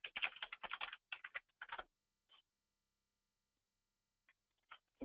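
Rapid, close keyboard typing in a dense burst of clicks, then a few scattered single key taps separated by quiet pauses.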